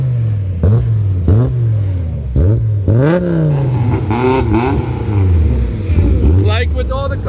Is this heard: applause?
no